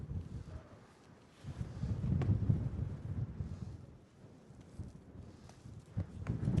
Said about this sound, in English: It's a good 20-mile-an-hour wind at the moment